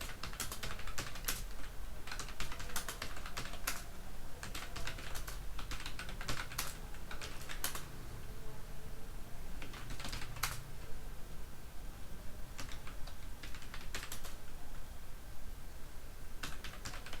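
Someone types on a computer keyboard, entering details into an Excel spreadsheet. Quiet, close key clicks come in irregular bursts with short pauses between runs of keystrokes.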